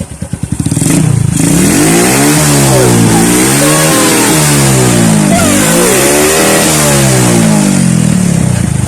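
A Suzuki Smash 115 motorcycle engine on a road test after a spring replacement, with a fault that stalls it when the throttle is twisted, starts with uneven pops and then revs loudly and close, rising and falling in repeated surges.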